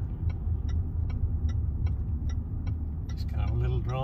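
A car driving around Criccieth gives a steady low engine and road rumble from inside the cabin, with a regular ticking like an indicator running through it and a faint whine near the end.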